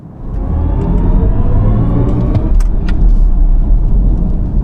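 A synthetic humming drone swells as a 2025 BMW i4 electric car accelerates, with a steady low rumble of road noise underneath, close and continuous.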